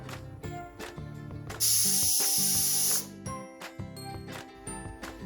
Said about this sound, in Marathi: आता आपण दोन ते तीन कुकरला शिट्टा दिल्या होत्या